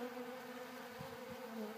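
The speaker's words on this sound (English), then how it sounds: "And as you can see, the bees seem to be very happy with it." Honey bees swarm over a feeder of pure ground pollen, a steady close buzzing hum of many wings with a few louder passes as individual bees fly near.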